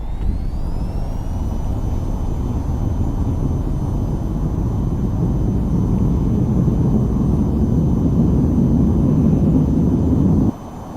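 A jet fighter taking off in the VTOL VR flight game, its engine a steady loud roar with a high whine laid over it, continuing for about ten seconds before cutting off abruptly.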